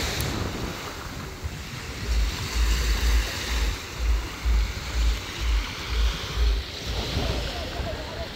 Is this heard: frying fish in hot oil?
no